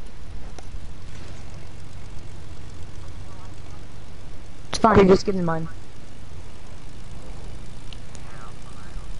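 A steady, low airplane engine drone hums in a video game, running under a brief exchange between players and swelling into a short louder burst partway through.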